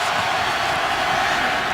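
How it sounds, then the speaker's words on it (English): Dense, roaring crowd noise from the stands at Arrowhead Stadium during a 2016 Chargers at Chiefs NFL game, a steady wash with no break. "They have to handle this crowd noise early, which can be deafening here at Arrowhead."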